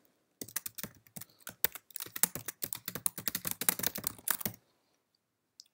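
Rapid typing on a computer keyboard while setting text in a desktop publishing program, a steady close run of crisp key clicks for about four seconds, then silence.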